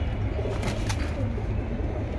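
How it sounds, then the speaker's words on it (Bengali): A red mixed-colour male pigeon coos softly, its low murmuring calls sitting faint beneath a constant background hum. "এটা লাল কালার মিক্সিং কবুতর,"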